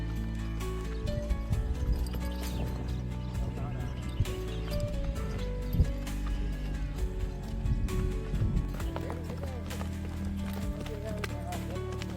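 Hooves of a Kathiyawadi Panchkalyani mare clop at a running pace, mixed under loud continuous music, with rhythmic hits throughout.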